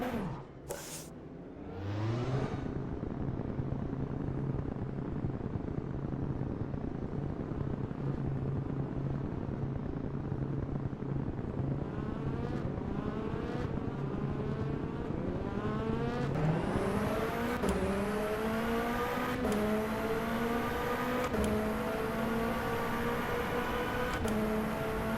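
Race car from the rFactor 2 EnduRacers mod lapping a circuit: a brief startup roar, then a steady high engine whine that climbs through repeated upshifts, each gear change marked by a quick break before the pitch rises again, loud and close with no talk.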